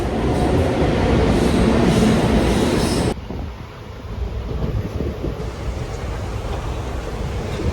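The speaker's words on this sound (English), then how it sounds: "Train आ चुकी है." A train pulls into a station, a loud rolling rumble of rail cars that cuts off abruptly and gives way to a quieter, steadier hum.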